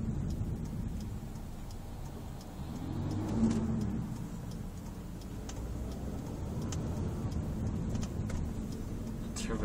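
A Mazda 3 car's engine hums while driving, with a brief rise in revs around the middle, heard from inside the cabin over steady road noise and light talk.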